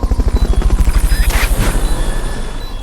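In a video game, a helicopter hovers during a Fulton recovery. Its rotor gives a loud, fast, steady chop with engine whine, and the pulses thin out slightly toward the end.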